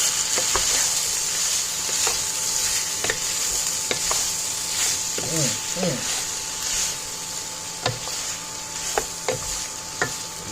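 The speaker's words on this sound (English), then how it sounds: "Stir that in." Seared beef being stirred into a pot of Southern-style beef stew, with intermittent scraping and clinking strokes over a steady bubbling hiss, close by and fairly loud, with brief vocal sounds partway through.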